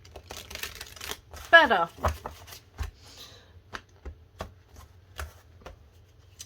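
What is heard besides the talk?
shuffling tarot cards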